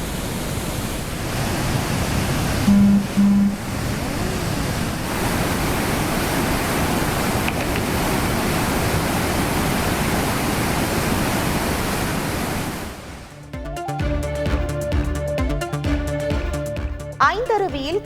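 Flash-flood water thunders down Courtallam main waterfall in a constant dense roar for several seconds before it cuts off and music takes over.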